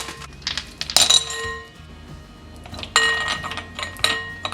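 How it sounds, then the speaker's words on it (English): Ice cubes dropped into a large bowl give two bursts of bright, close clinks, with a lighter rattle between them and nothing else heard. "In a large bowl, add ice cubes."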